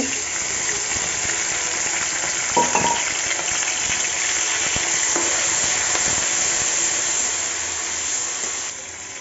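Onions frying in hot oil in a pan, a steady broadband sizzle that runs loud and continuous throughout, with a few brief stirring clatters and no speech.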